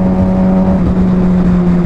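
A Suzuki GSX-R 750 motorcycle engine holds a loud, steady droning hum as the throttle is released, heard close up and continuous with no voices.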